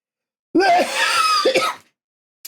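A single harsh, throaty cough or throat-clearing burst lasting about a second, close and loud, with a brief faint click afterward.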